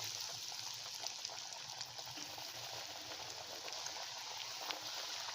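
Paneer cutlets deep-frying in oil over a medium flame give a soft, steady bubbling sizzle, quiet and continuous with faint crackles and no one talking.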